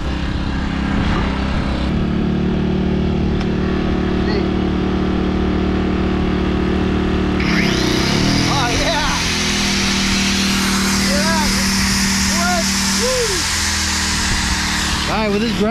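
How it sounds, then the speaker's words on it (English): A small portable generator runs steadily, its engine hum and harmonics continuing throughout, then a power grinder kicks in partway with a loud, high whine that rises and falls as it bears down, cutting dredge mats outdoors. "that's a little generator to run this grinder"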